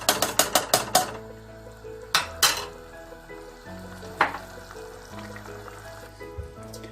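Kavurma meat sizzles in a pan with a steady frying hiss, broken by a quick run of sharp metallic clacks from a utensil against the pan, then a few scattered knocks, with no talking.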